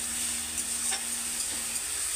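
Spices and water sautéing in a pan, a steady broadband hiss of sizzling with faint stirring scrapes, close and continuous, no voices.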